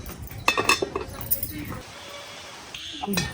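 A metal lid set on a cooking pot while chicken khichuri is prepared in a Bengali kitchen, a few bright clinks and rattles close by, with talking running underneath.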